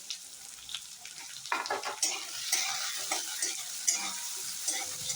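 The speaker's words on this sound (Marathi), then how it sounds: "हे आता गरम झाल्यावर सगळ्यात पहिल्यांदा हे शेंगदाणे घालायचे आहेत उकडलेले." Boiled peanuts sizzle and crackle in hot ghee in a pan, with a steady frying hiss under repeated stirring scrapes and light clinks, close and alone.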